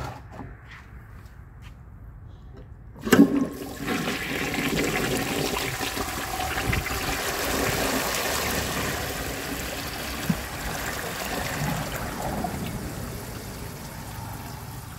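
A 1959 Standard Compton toilet flushes out on a patio with a bin set beneath it. A sharp clunk sets off a rushing surge of water, which settles into a steady wash and trickle that runs for more than ten seconds.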